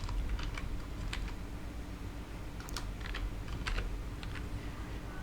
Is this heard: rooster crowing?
no